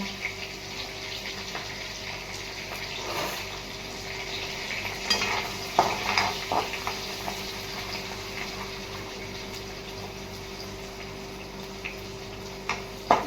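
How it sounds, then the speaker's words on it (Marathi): Cumin, garlic and curry leaves frying in hot oil give a steady close sizzle, with a few louder spits and crackles scattered through, and no talking. "जिरे टाकले आणि लसूण पत्ता टाकून घेतला"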